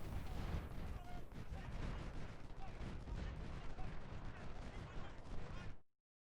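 Continuous battlefield din from the Ultimate General: Civil War video game, with dense musket volleys and booming artillery rolling together at a steady loud level before cutting off abruptly, while someone talks underneath.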